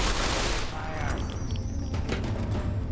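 Dense, continuous volley of gunfire in a video game, overlapping shots and booms packed tightly from start to finish with no pauses, loud and close.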